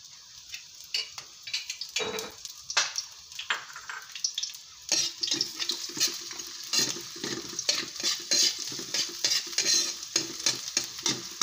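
Garlic frying in a pan for lumpiang shanghai filling, a close crackling sizzle with frequent scraping stirs and ticks of the utensil, growing busier and denser after the first few seconds.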